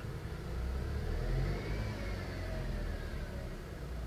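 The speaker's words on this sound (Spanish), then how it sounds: "Voy a hacer una pequeña aceleración." A Chrysler Sebring with a failing alternator gives a brief rev: a steady mid-range engine drone that swells slightly and then settles, heard close and alone with no talk.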